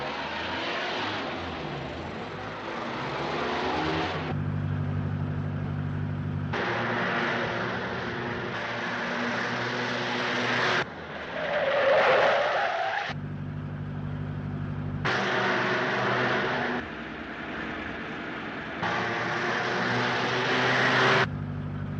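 A 1930s car engine drones and revs through repeated shifting passages over about twenty seconds, with one brief sharper squeal like tires skidding midway, no speech.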